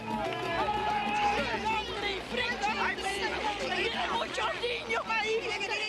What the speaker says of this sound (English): On the beach, Cuban Americans cheer for them to reach dry land.